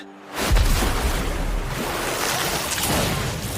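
A water pillar magic spell in an anime erupts as a loud, sustained rushing whoosh of surging water, starting abruptly with a deep boom and roaring steadily for several seconds with no voices over it.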